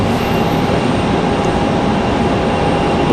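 A JetBlue Airbus A320 lines up on the runway at Raleigh-Durham International Airport, its engines giving a steady, unbroken broadband roar at a distance, with no voices.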